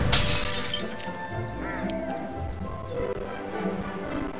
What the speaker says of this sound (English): Let me just hit the glass jar.